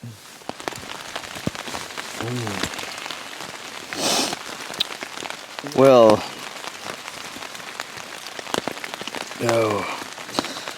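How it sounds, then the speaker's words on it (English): Heavy overnight rain patters steadily on military surplus camping gear, a dense crackle of drops close by, while someone talks over it at intervals. "it has been pouring the rain all night long"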